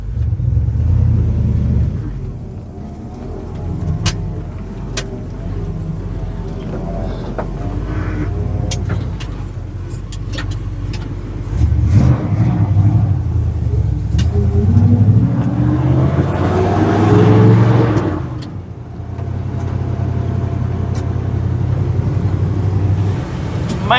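A car that has just had its exhaust repaired drives along a road, its engine rumbling steadily and swelling as it accelerates midway, with road noise throughout and a brief voice at times.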